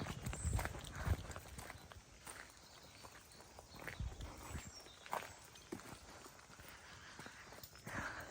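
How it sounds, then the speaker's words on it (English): Hooves clip-clop on a road as a horse approaches, a steady walking rhythm of faint, slightly distant knocks under outdoor background noise, with no speech. "So there's a horse up ahead."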